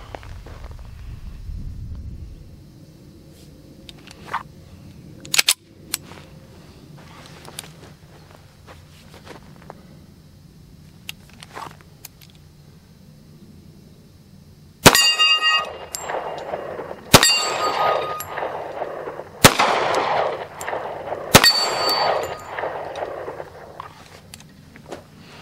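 A Ruger SR1911 .45 pistol fired outdoors, with several loud, sharp reports in the latter half at uneven intervals and a couple of fainter pops and clanks earlier, over quiet ambient background.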